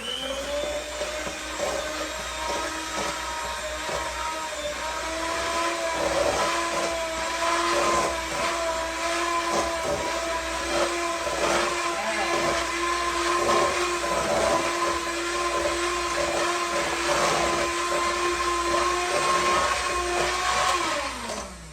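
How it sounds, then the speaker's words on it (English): An electric mixer beats room-temperature butter for oatmeal cookies, its motor whirring loud and steady at close range for about twenty seconds before winding down at the end. "We're going to use our mixer and mix this up real quick."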